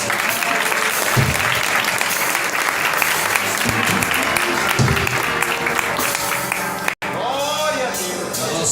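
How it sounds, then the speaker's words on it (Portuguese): A church congregation at a family service breaks into sustained, loud applause that fills the space, with voices mingling in the crowd and a brief dropout near the end. "Aplauda o Senhor aí, irmãos."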